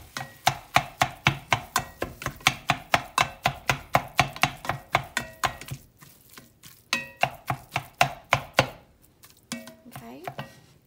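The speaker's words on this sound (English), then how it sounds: "I've got this handy dandy meat chopper that's wonderful for chopping" Rapid rhythmic chopping of a metal meat chopper breaking up ground beef in a pan, dozens of crisp strikes in steady bursts, pausing briefly then resuming with a few scraping sounds.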